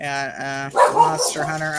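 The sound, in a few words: dog barking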